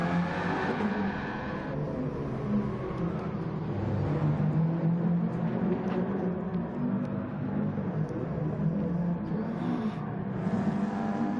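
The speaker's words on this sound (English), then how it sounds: "GT's trying to drift his Evo" A Mitsubishi Evo drifts around the Lago Maggiore GP circuit in a 1990s classic-car racing video game league, its engine droning steadily and loudly throughout with no break and no talk.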